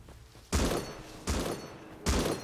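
Machine gun fire in the survival game Rust: three loud, heavy bursts about a second apart, each cutting in sharply and trailing off, with no talking over them.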